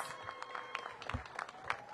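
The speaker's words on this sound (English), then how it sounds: "Everybody give Wanda on 7th and now on MLK a big round of applause." A small crowd at an outdoor community event opening a safe commercial corridor hub in Anacostia claps in brief scattered applause, moderately close and fairly quiet, lasting just under two seconds.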